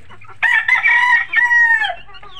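Chickens and chicks in a farm coop give loud, close, drawn-out calls, several overlapping cries, with no talk.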